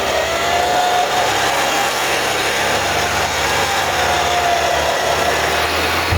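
A Toyota Hilux engine runs hard off-road in the mountains, a loud, constant, buzzing drone held at high revs with little change throughout.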